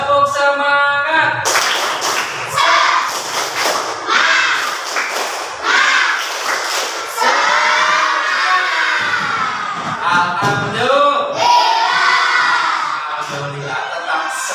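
Schoolchildren at an elementary school chant and clap together in a loud, lively group rhythm, with bursts of shouting and cheering from the crowd of kids throughout.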